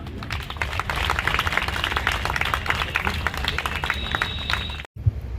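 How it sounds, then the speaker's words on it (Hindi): Loud, dense applause fills a hall at a road safety week launch event, a sustained crowd of clapping hands that runs steadily for several seconds before cutting off abruptly. "जोरदार तालियां"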